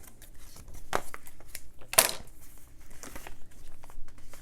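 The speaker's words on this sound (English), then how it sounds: "I've got that unruly edge, so I'll just trim that down." Paper is trimmed along an edge while a gift bag is being made, giving a few quiet crinkling snips and one sharper cutting rustle, close and faint against a soft background.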